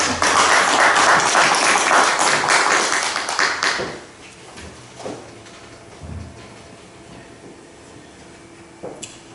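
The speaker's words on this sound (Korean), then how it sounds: "다시 한번 하나님께 영광의 박수, 감사의 박수" A church congregation applauding during a Sunday service: loud, dense clapping for about four seconds that stops abruptly, followed by quiet room tone with a few faint knocks.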